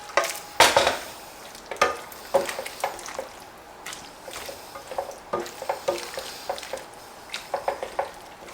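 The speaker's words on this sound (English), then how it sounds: "Now we're just going to give this a little toss." Orecchiette pasta is tossed in a pan with sausage, meatballs, garlic, onions, fresh oregano and diced tomatoes, making a run of short, scraping, sloshing bursts over a soft sizzle, loud and close.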